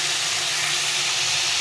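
Vegetables fry in a pan with salt and turmeric, giving a steady, close sizzling hiss with no talking.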